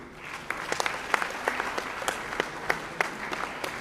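A full round of loud applause from an audience at a felicitation ceremony for completed school toilet construction, dense and steady throughout with sharp individual claps standing out.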